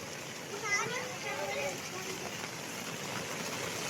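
Rainwater flows during the first monsoon rain, a steady soft hiss of running and falling water under children's voices nearby.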